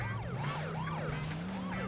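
A police car siren in The Simpsons: Hit & Run on PS2 wails in rapid rising and falling sweeps over a low engine hum, loud and close.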